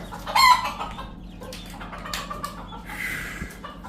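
A rooster on a farm, worked up during egg collection, gives loud bursts of clucking and squawking, sharpest near the start, then lower scattered clucks over a steady background murmur.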